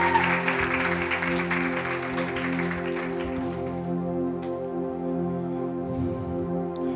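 Applause from a church congregation at a Good Friday service fills the space, steady and sustained, with broad clapping noise fading slightly over a low sustained musical drone.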